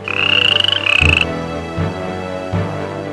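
A frog croaks in a storybook setting, a few throaty calls then quieter croaks spaced across the moment, close and clear with no talking.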